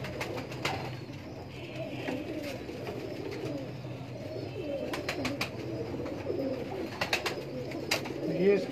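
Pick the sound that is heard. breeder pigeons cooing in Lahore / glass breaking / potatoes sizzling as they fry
breeder pigeons cooing in Lahore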